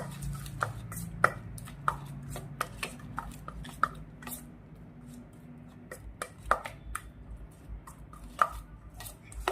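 Paneer tikka marinade is whisked in a bowl, with a rapid, uneven run of close, crisp clicks and taps from the utensil striking the bowl, and no talking.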